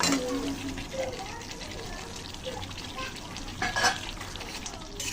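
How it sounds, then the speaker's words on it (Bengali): Fried vegetables are tipped into a pan of frying spice paste for a vegetable curry and stirred, with a steady close sizzle and scraping under a voice, plus a sharper clatter near the end. "এখন আমি দিয়ে দিচ্ছি ভেজে রাখা সব তরকারিগুলো।"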